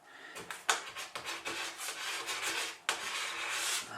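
A flat plastic scraper drags wax off a snowboard base in quick, close, rasping strokes, a steady scratchy rhythm with sharper accents at the start of some strokes and no talking.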